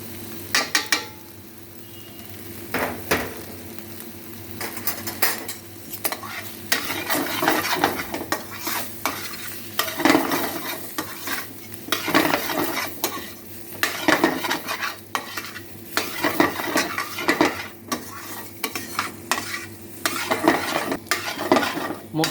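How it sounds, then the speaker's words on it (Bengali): Turmeric and chili powder sizzle in a hot pan for Handi Paneer while a utensil scrapes and clinks against the metal in irregular close strokes over a steady fry. "মশলাটা একটু সাঁতলে নিয়ে"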